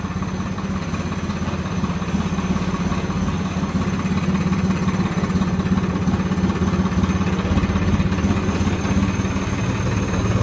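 Two tractors, a Swaraj 963 and a Tochan King 5050D, idle together. Their diesel engines make a steady, close, low rumble with a constant throb and no voices.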